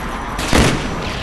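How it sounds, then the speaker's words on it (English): A napalm strike explodes in a multiplayer shooter game, a brief loud blast rising out of a dense, continuous rumble of noise. "Friendly napalm strike on the way."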